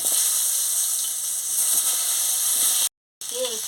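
Potatoes frying in oil with salt, a steady hissing sizzle heard close, broken by a brief dropout near the end.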